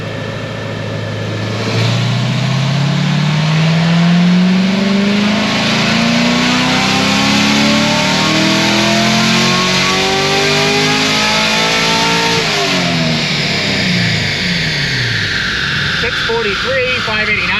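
A naturally aspirated LT1 V8 in a C7 Corvette Grand Sport road race car revs hard through a sustained dyno pull, its rising harmonics sweeping upward for several seconds before the throttle lifts and the engine winds down, loud and close.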